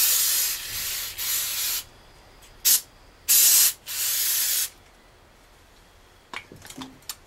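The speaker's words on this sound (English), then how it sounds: "we can go ahead and take our carb cleaner" Can of carburetor cleaner sprayed onto a 2001 Honda XR 400 carburetor: several loud, close hissing bursts of varying length, followed by faint clicks and handling noise.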